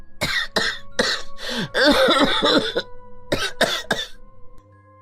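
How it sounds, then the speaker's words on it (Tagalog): A person with an illness breaks into a coughing fit: several harsh, close coughs in rapid bursts with throat-clearing rasps between them, loud and alone with no talk. "Baka lalo akong dalahitin ng ubo."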